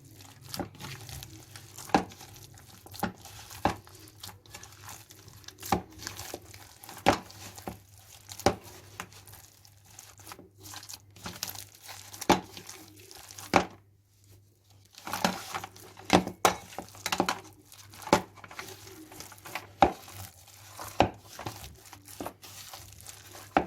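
Bare hands squish and knead a raw chicken burger mixture, giving repeated soft wet crinkling and slapping pulses at a steady irregular rhythm, close and fairly quiet, with a brief pause midway.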